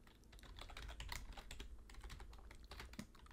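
Steady, rapid keystrokes on a computer keyboard while entering input for a C program, close and clear with no talking over them.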